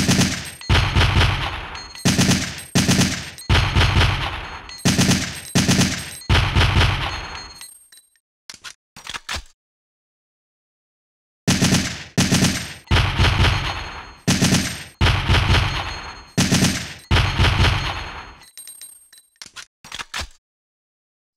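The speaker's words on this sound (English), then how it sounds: "now let's switch over to manual mode and fire it that way." A weapon fires in manual mode in Resident Evil 3, with loud, rapid bursts of gunshots in quick repeated volleys, a pause with a few metallic clicks, then another long run of shots.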